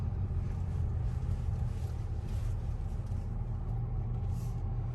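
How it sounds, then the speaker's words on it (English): Low, steady engine and exhaust rumble heard from inside a moving Hyundai Sonata N Line, a continuous muffled drone with no talking. "I can kind of hear the exhaust outside a little bit."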